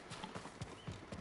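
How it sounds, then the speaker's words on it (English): Horse hooves clip-clop in a quick, steady rhythm as the animal runs in the video game Ghost of Tsushima, a faint, evenly spaced series of soft thuds with no talking over it. "Why does a horse keep running away?"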